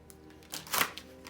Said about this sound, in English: Now we're going to get a shuffle on these cards